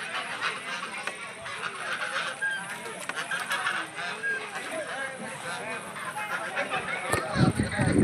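Domestic geese honk repeatedly amid a noisy flock chatter, close and layered, with people talking nearby.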